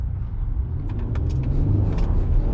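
Tires spin on a Ford F150 Ecoboost pickup with a performance tune while towing, a steady loud engine rumble and road roar heard from inside the cab, with a faint rising hiss of slipping rubber.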